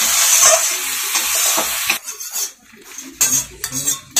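A spoon scrapes and stirs egg curry in a hot pan, with steady sizzling of frying masala, metallic clinks and scrapes, and a louder, choppier stretch of stirring near the end.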